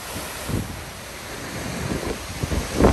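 Sea surf at Lazarevskoye near Sochi rolls in against a railway embankment, with wind buffeting the microphone and several breaking waves surging up, the last one loudest and nearby.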